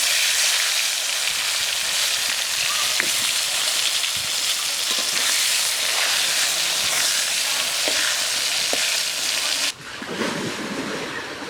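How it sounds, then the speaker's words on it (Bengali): Brinjal (eggplant) slices frying in leftover fish-frying oil, a steady loud sizzle with small crackles that runs continuously before dropping briefly near the end, no voices. "মাছ ভাজা তেলের মধ্যে বেগুন ভেজে নেব।"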